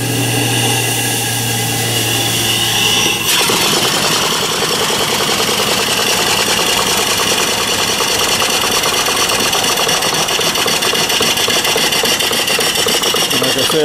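A small live steam engine, a reproduction of an antique, chugs steadily with a rapid mechanical rhythm, hissing and clattering up close, growing busier after a few seconds and running continuously.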